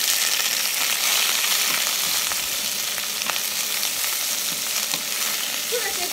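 Prawn shells frying in a tablespoon of hot oil in a pan for Singapore laksa, giving a loud, dense, continuous sizzle close by with faint crackles throughout and no speech.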